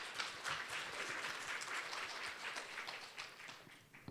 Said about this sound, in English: Let's welcome him once again with a big round of applause.